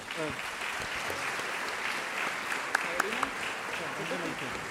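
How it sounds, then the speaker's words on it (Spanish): Audience applause fills the hall at an education congress in Paraná, Entre Ríos, a steady wash of clapping with a few sharper claps standing out near the end, while a voice talks underneath. "Reiteramos ese aplauso."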